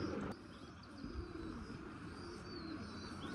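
Golden pigeons with blood-red eyes coo softly in the background, low and faint, with a few small chirps over steady room noise and no talking.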